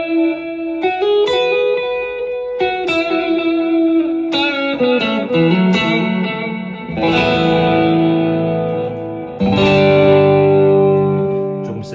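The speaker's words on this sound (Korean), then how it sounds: "한번 딜레이랑 리버브를 걸어서 한번 이 톤에 대해서 한번 쳐볼게요" Electric guitar played through a Quad Cortex with delay and reverb, a run of ringing notes and chords that trail off in echoing repeats and a wash of reverb, loud and close with no talk.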